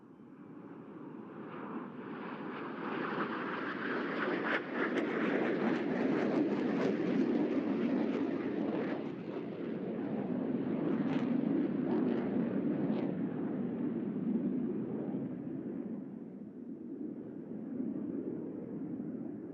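Jet aircraft flying in formation over the NAS Oceana air show, a loud sustained roar that swells and rumbles for the whole stretch, with no voices over it.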